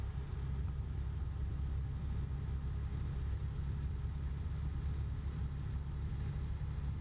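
A truck engine in American Truck Simulator drones steadily and low throughout, a continuous hum with no talk over it.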